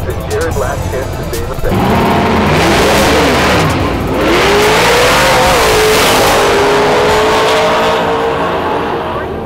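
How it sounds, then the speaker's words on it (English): Loud race cars roar and rev at a track, engine pitch climbing and falling as they accelerate past, a continuous harsh blare with voices faintly underneath. "Some of these cars are so loud it makes my teeth hurt."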